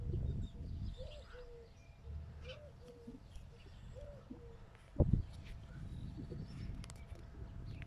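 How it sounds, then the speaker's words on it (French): Turtle doves coo softly outdoors on a cool evening while small birds chirp and sing in the background, with faint frogs from a nearby pond; a brief louder knock lands midway. "Les tourterelles. Et les petits oiseaux qui chantent."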